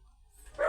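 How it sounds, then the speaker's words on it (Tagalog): A dog barks once near the end, a short loud bow-wow rising out of quiet room sound, with no talking over it. "pag paumanhin niyo po yung ingay ng aso"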